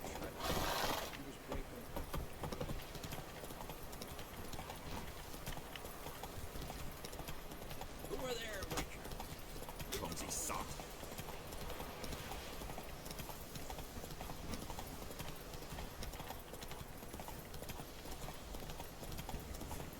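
Hooves of the horse Roach galloping in the video game Witcher 3 make a continuous, even clip-clop rhythm at low volume for the whole stretch, with a brief whinny and occasional voices.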